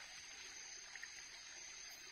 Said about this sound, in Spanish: No sé si logren escuchar ahí el río.